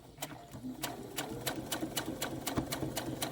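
Sewing machine stitching a fabric Christmas tree ornament in short rapid bursts of needle strikes, with brief pauses as the work is turned, close and fairly loud.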